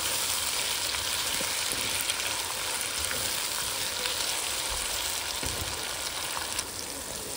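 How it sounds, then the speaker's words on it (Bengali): Tomato being stirred into golden-brown fried onions in a hot pan, a continuous close sizzle and frying hiss with faint scraping of the stirring, no talking. "এখন এখানে দিচ্ছি একটা টমেটো, টমেটোটা দিয়ে ভালো করে একটু নাড়িয়ে চাড়িয়ে দিচ্ছি"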